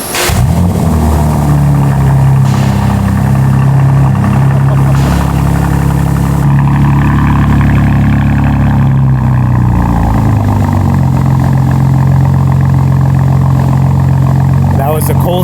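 A BMW G87 M2 with an AWE Track Edition exhaust cold starts with a sharp burst and then holds a loud, raspy, high idle. The engine note steps down partway through and stays close and dominant, with voices in the background.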